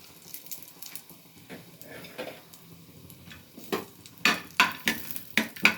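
Tamarind and dried coconut are dry-roasted in a pan, starting with quiet rustling and building to loud, rhythmic scraping and stirring strokes close by.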